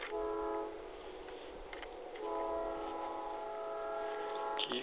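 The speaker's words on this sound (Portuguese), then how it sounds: "O trem tá vindo, mano." A train rumbles through a railway tunnel in Paraná, Brazil, its horn sounding long and steady, fading briefly and then returning louder, echoing in the enclosed space, with no voices over it.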